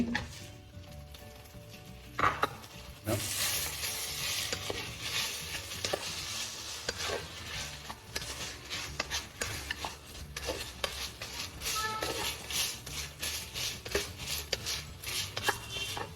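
Chicken sizzles in a hot pan, with a sharp burst as it goes in followed by continuous frying and frequent scraping, stirring strokes close by.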